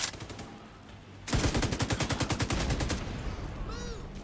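LMG fire in The Division 2, heard as rapid, evenly spaced automatic bursts: a lighter volley first, then a loud, sustained stream of heavy shots with faint whooshing effects near the end.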